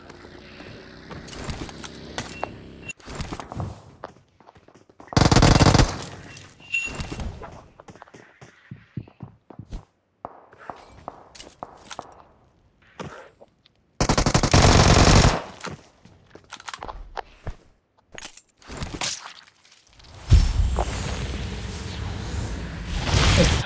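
An M249 machine gun fires in a video game on Graffiti Street: several loud sustained bursts alternate with quieter stretches of scattered clicks and single shots.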